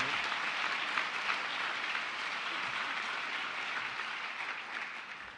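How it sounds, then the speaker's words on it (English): Audience at a high school awards ceremony applauds retiring staff, a dense, steady wash of many hands clapping at moderate distance, holding evenly for several seconds and fading slightly at the end. "Let's give a big round of applause to our retirees."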